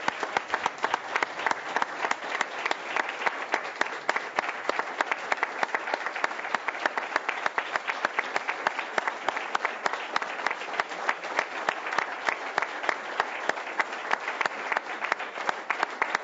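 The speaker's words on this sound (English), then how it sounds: "One last round of applause for this year's Justice Prize recipients." Steady, dense audience applause for the Justice Prize recipients fills the whole stretch at an even level, a continuous wash of many hands clapping without voices.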